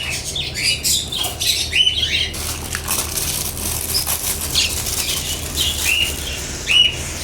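Birds squawk and whistle in short calls, with bursts of fluttering, flapping wings throughout, close by, and no talking.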